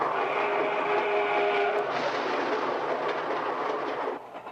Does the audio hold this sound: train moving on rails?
yes